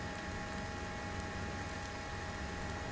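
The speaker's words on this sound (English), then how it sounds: "The rain makes it even more interesting trying to hear it" Rain falls in the Steel Beasts tank simulator, a steady dense hiss of rain on surfaces throughout, loud and even with no talking.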